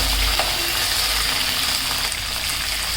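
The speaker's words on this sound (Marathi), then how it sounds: "आणि आता मटार घालून घ्यायचे. ते पण छान फ्राय करायचं आहे." Green peas hiss and sizzle steadily in hot oil along with fried chilies, a loud, continuous close frying sound with faint stirring.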